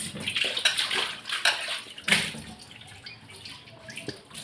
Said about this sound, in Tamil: இந்த கடை வேறு நல்லா கழுவணும், ரொம்ப கழுவு